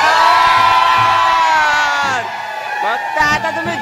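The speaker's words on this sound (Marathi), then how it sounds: "जल्लोष बघा धोंडपाडकरांचा." A crowd cheers, whoops and yells loudly and continuously at a Dahi Handi celebration in Dhondpada village, where the Govinda festivities take place in mud. Shouting voices overlap throughout, with a fresh burst of yelling near the end.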